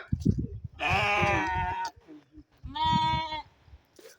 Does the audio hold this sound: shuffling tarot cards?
no